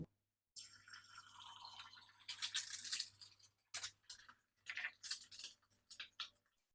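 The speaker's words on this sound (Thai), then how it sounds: "ตอนเทอาจจะมีเสียงดังสู้ซ่าหน่อยค่ะ" Bursts of bright crackling sizzle from eggs frying in hot oil rise and fall in waves, close and fairly loud, with a low steady hum beneath and brief quiet gaps between.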